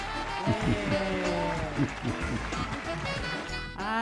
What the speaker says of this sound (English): Let me clap for that.